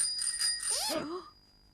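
A comic bicycle-style bell rings in quick repeated strokes as the sound for ringing ears in a children's puppet show, followed by a swooping descending wobble that fades out.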